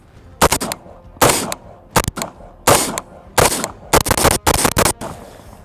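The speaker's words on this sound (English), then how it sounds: "I'll show you guys right here just what the basic recoil impulse looks like on the M16A2." An M16A2 service rifle firing about eight loud, sharp shots in an uneven rhythm, some spaced apart and some in quick pairs, each with a brief echoing tail and nothing else heard between them.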